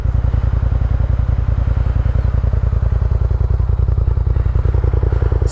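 A 2018 Polaris RZR XP Turbo side-by-side on 32-inch Maxxis Rampage tires and 14x7 Tusk Teton beadlock wheels drives through melting snow, its engine a loud, steady, rapid pulsing drone held close for the whole stretch.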